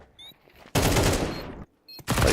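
Loud bursts of automatic rifle fire from a Counter-Strike esports match between Team Liquid and G2 at IEM Dallas 2024, with a long sustained volley flanked by shorter bursts and brief gaps.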